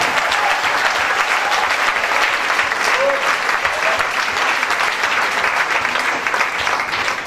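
Enthusiastic applause from a church congregation during a Sunday service, loud and continuous with cheering voices mixed into the clapping.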